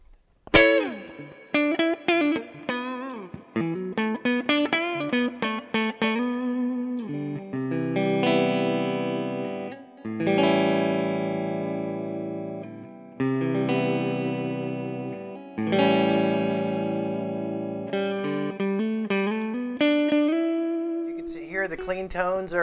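An electric guitar on its neck pickup plays through an Orange CR120H amp, first quick single notes, then sustained chords and held tones, clean and ringing, played alone.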